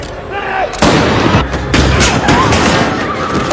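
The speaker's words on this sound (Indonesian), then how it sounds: "Polisi tadi tak berhenti melayangkan tembakan dan melukai warga sipil" Police open fire in a film: a rapid series of loud, sharp gunshots bursts out, with a mix of other sounds from the scene under the shots.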